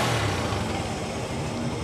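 A Honda 125 motorcycle engine idles steadily up close, a continuous low rumbling chug with no change in pace.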